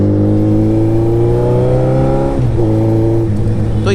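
A motorcycle with a loud racing exhaust revs and drones steadily close up, its pitch dipping briefly midway before climbing again, with no talking.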